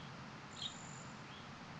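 Crickets chirping in the Super Mario 64 game, heard as a steady, quiet ambient background with faint chirps and no talking.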